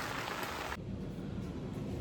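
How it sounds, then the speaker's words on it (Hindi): Heavy rain pours off a house roof as a dense, loud hiss of falling water that briefly thins and softens partway through, then carries on steadily. "तो आज काफ़ी तेज़ बारिश है, ये देखो चारों तरफ बारिश ही"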